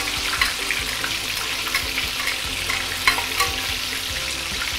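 A fish head fries in hot oil in a wok for a tofu and fish head stew, giving a steady, close, dense crackling sizzle with occasional sharper pops and clinks as it is turned.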